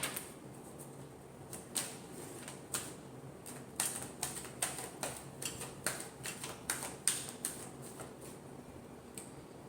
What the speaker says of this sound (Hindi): एक शफल और।